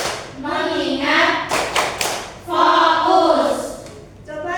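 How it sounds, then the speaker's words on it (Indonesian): An Indonesian classroom of children chanting the 'tepuk fokus' routine, with sharp rhythmic bursts of group clapping between sung syllables, their voices close and loud. "Ayo sama-sama. 1, 2, 3. Tepuk fokus."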